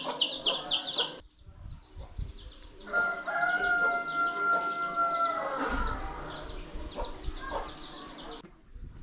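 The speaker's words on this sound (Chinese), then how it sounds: "小鸡，老母鸡带着" A hen leads her chicks in a hillside village among the Yuanyang terraced rice fields. High chick peeps come first, then a run of throaty hen calls and clucks, fairly close, over faint rural background noise.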